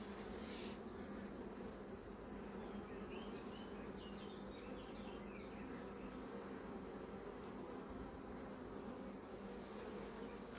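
Honey bees buzz steadily around a nucleus hive while foragers bring in pollen and nectar, a soft continuous hum with individual insects droning past, no voices.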